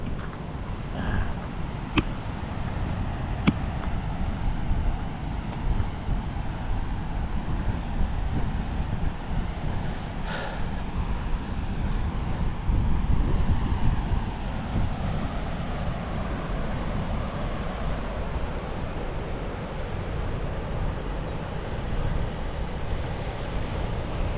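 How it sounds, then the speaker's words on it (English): Steady, blustery wind buffets the microphone in a continuous low roar on the Great Ocean Walk coastal trail, with no voices, holding a constant loudness throughout. "It's windy out here."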